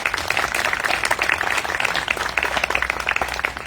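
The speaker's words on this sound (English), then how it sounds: "So a round of applause for them as well." An audience at a ribbon cutting ceremony applauds, a brisk, dense patter of many hands clapping close by throughout, steady and moderately loud.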